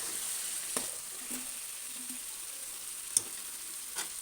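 Skin-on chicken for a gravy fries in a pan with a steady, soft sizzle, broken by a few faint clicks and scrapes of stirring.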